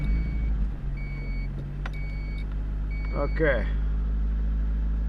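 A 1989 Honda Accord LXi engine idles high at a full cold start, a steady low drone throughout, with someone speaking briefly over it, faint beeps and a short whirring burst near the end.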